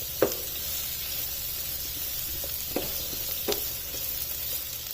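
Ingredients for a traditional palak paneer fry in oil in a pan, a steady close sizzling hiss with a few soft clinks of stirring, no voices.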